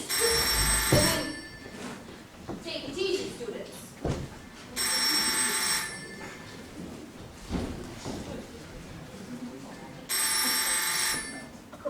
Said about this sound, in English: You know what that ringing sounds like?